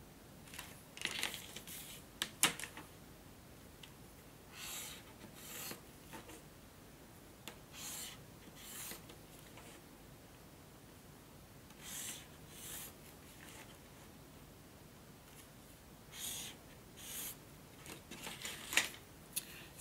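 Marking lines are traced on bookbinding material with soft, faint scratchy strokes in irregular short bursts, close by and quiet.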